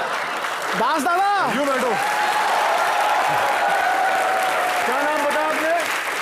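Studio audience at a TV comedy show giving steady, full applause throughout, with someone talking over the clapping.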